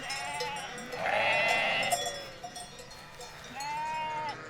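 Sheep roaming the summer wilderness of Norway bleat nearby, a few wavering calls separated by short pauses, over a soft outdoor background.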